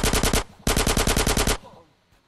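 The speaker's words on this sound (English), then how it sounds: "I'm sitting there shooting at them." Rapid automatic gunfire from a shootout in GTA San Andreas Definitive Edition, loud and close, in two sustained bursts of evenly spaced shots separated by a short gap, then trailing off into quiet.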